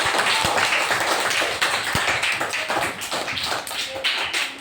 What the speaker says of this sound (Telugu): claps to Parimala